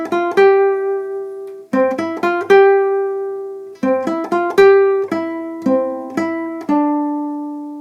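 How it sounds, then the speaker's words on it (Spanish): Clean plucked guitar picking out the When the Saints melody, single bright notes in clear phrases ringing and decaying between groups, close and alone. "Saca su guitarra y se le ocurre ponerse a tocar la melodía de Oh and the Saints"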